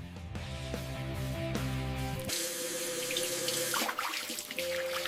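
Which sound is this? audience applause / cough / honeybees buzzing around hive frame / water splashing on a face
water splashing on a face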